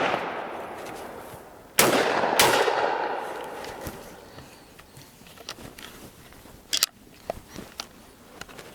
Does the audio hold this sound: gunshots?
yes